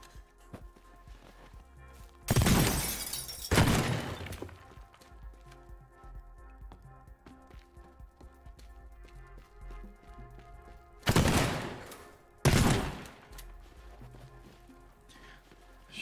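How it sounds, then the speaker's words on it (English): Four heavy shotgun blasts from the video game Teardown, fired in two close pairs separated by a long quiet stretch, each a loud broadband crack with smashing debris after it, over low background rumble. "Shotgun's pretty damn cool."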